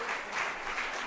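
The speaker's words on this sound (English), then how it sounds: "let's give our panel a big hand of applause" An audience claps together in a steady, wash of applause after a conference panel, moderately loud and without voices.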